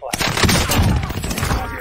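Rapid bursts of gunfire in a multiplayer shooter game fill a short dense stretch, loud and continuous, with a voice talking faintly underneath.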